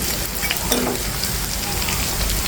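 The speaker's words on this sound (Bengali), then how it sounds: "আর একটা পাশ খুব সুন্দর করে মুসমুসা করে ভাজা হবে" Jackfruit pakora fritters frying in hot oil, a steady close sizzle and crackle throughout, with faint stirring or turning sounds and no talk.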